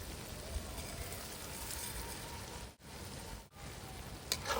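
Gobindobhog rice fries in a pan with spices, giving a steady, quiet, dense sizzling hiss that runs unbroken apart from two brief dips.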